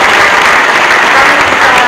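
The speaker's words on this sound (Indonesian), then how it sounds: "kita tepuk tangan yang panjang dulu" A full church congregation applauds at a Christmas thanksgiving service, a dense, steady wash of clapping that fills the whole short moment without a break.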